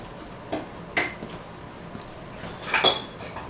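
Dishes and cutlery clatter in a kitchen while beef stew is served, a few sharp clinks and scrapes at uneven intervals, close and moderately loud, with no talking.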